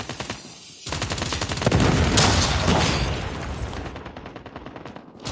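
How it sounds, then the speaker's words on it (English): A Predator missile strike in Call of Duty hits with a heavy booming explosion amid dense rapid gunfire, the blast rumbling loud and close before trailing into continued shooting. "Friendly Predator missile inbound."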